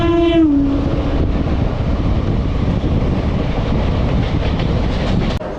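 The Ganadevata Express train running between Howrah and Bolpur, a loud continuous rumble and rattle of wheels on track, opened by a short horn blast.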